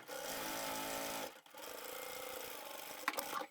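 A sewing machine stitches fabric pieces together for a handbag in two long, even runs of close mechanical whirring with a brief stop between them, ending in a few sharp clicks.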